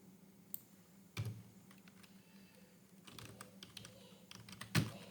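Sparse, quiet clicks and taps from typing on a computer keyboard, a few scattered keystrokes with short bursts and pauses in a faint, quiet room.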